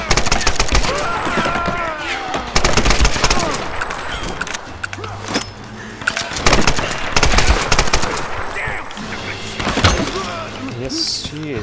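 Bursts of assault rifle fire in the Tomb Raider video game rattle loudly in sustained volleys over game sounds, mixed with voices talking throughout.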